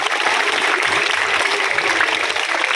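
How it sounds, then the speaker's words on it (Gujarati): A crowd of students and guests at a school welcome ceremony claps continuously and evenly, a dense, steady ovation that fills the room. "તાળીઓ"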